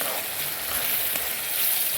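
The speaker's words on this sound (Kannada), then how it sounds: "ರುಬ್ಬಿರೋ ಮಸಾಲೆನ ಹಾಕ್ತಾಯಿದ್ದೀನಿ ಚೆನ್ನಾಗಿ ಅದನ್ನು ಕುದಿಸ್ಕೊಳ್ಬೇಕು" Ground masala and chopped onion fry in oil in a pan for a gojjavalakki breakfast dish, giving a loud, close, continuous sizzle with no talking.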